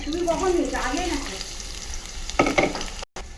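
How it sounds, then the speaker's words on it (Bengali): Onions go into hot oil and set off a close, strong sizzle, with stirring scrapes and a few clattering knocks later. A voice talks briefly over the frying. "তেলটা গরম হয়ে গেছে দেব পেঁয়াজ"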